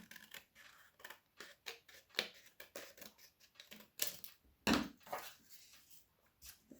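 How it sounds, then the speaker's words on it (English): Scissors trim the edge of a paper sheet for a pressed-flower artwork, making a run of close, crisp snips and cuts at an uneven rhythm, with no talking. "I'm just going to trim it down slightly at the edge, just so there's a bit more of a border"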